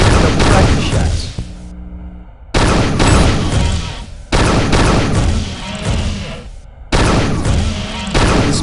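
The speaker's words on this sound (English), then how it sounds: "Couple practice shots." Dispersion pistol firing practice shots at a target in the Unreal 2 shooter game, a few loud bursts spaced by brief pauses, alone with no talk.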